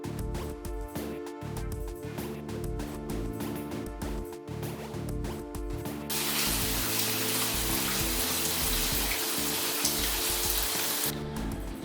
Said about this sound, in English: It's raining, and when it's raining on the beach, it's an amazing view